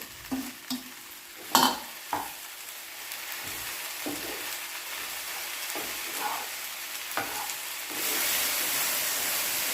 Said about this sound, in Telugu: ఇప్పుడు ఉప్పు వేసుకొని జిగురంతా ఎనికే వరకు కలుపుకోవాలి